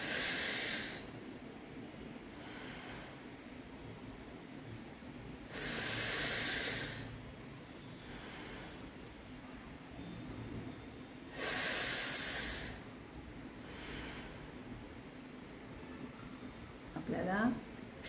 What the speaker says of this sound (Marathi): आता आपल्याला दाताच्या फटीतून श्वास घ्यायचा आहे आणि नाकानं सोडायचा आहे